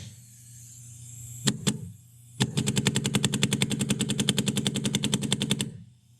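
A Dye M3+ paintball marker with an air leak fires two quick shots, then a long rapid automatic string of about thirty-five evenly spaced sharp pops over a steady hiss, close and loud.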